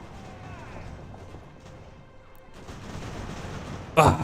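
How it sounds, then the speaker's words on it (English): Musket volley in the strategy game Ultimate General: American Revolution, a sudden loud crackling burst of massed gunfire near the end after a rumbling battlefield ambience, with faint speech beneath. "Ah, a devastating volley."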